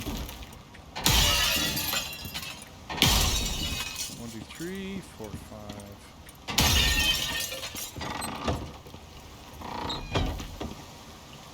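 Glass panes shatter in the survival video game Icarus, several sharp crashes spaced a few seconds apart with tinkling debris, loud and close, while a voice counts aloud between them.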